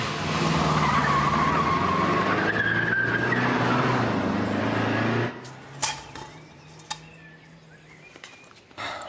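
A car revs hard and its tires screech in a long loud skid, the engine roaring continuously before cutting off to quieter scattered knocks and clatters.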